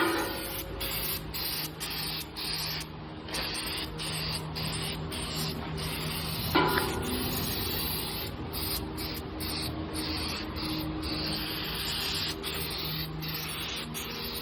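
A steady hiss of holographic paint spraying from a can onto a frame runs almost continuously, with brief gaps between bursts and a faint scrape partway through.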